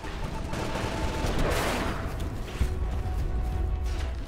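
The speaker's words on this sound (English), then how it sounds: "Oh, he's shooting at me." Bursts of dense automatic gunfire and explosive blasts from the video game Titanfall merge into a loud, continuous barrage lasting throughout, with no talking.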